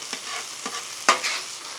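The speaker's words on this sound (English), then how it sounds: "You just want to make sure you get that all mixed out, all incorporated together." A spatula stirs beef base into a beef mixture on a griddle, giving three quick scraping strokes over a soft, continuous sizzle, close and fairly quiet.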